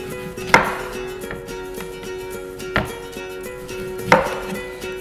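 A knife cuts through an orange on a board, giving three distinct, sharp chops spaced irregularly over a quiet, faintly humming kitchen background, with no talking.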